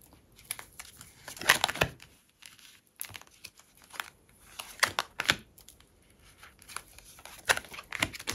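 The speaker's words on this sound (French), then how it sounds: "Je mets les cartes et je vous en parle." Tarot cards are shuffled, slid and laid out on a table in quiet, scattered bursts of papery rustling and light taps, with no talking.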